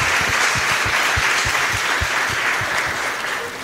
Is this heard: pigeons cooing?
no